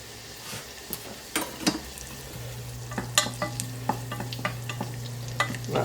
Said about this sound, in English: we're going to add our garlic